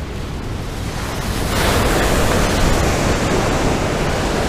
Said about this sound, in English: Waves are crazy.